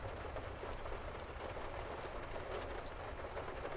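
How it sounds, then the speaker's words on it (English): Rain falls on a car during a thunderstorm, a dense, even hiss and patter heard from inside, steady and moderately quiet with no voices. "It's not your fault that it started raining."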